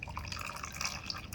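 Water runs out of the outlet hole of a PL682 unit, a steady close trickle with small bright drips and splashes, fairly quiet and with no talk.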